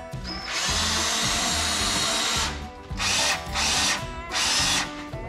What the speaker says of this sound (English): It's a winch that's operated with your handheld drill.